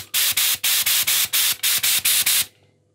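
HVLP spray gun spraying gel coat in a rapid series of about ten short hissing bursts of air, loud and close with even spacing, then cutting off into quiet.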